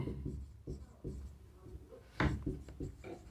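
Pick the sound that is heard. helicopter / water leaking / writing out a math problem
writing out a math problem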